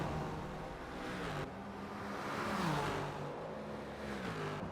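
BMW, Mercedes and Dodge Viper race cars in a Nürburgring Nordschleife endurance racing video game drone and whine steadily, engine pitch rising and falling as they accelerate and shift, a continuous mix of several cars with no talk.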